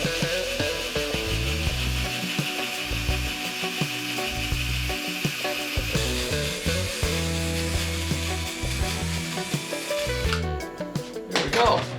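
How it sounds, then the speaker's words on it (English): A power drill whirs continuously with its pitch rising and falling as it grinds into metal, ending in a burst of rattling clatter. "So we've got to drill the little hole out there."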